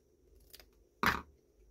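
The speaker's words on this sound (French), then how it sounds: "peut-être je vais couper un peu là" Scissors snip paper for a handmade card, a faint soft cut followed by one crisp, louder close-up snip in a quiet room.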